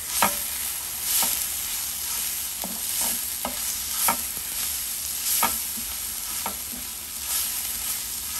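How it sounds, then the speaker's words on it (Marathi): A dry taro leaf dish with jaggery being stirred in a pan, a close, loud sizzle punctuated by regular knocks and scrapes of the spoon against the pan roughly every second. "यात आपण आता थोडा गूळ घालणार आहोत आणि आपण हे परत एकदा छानपैकी मिक्स करून घेऊया."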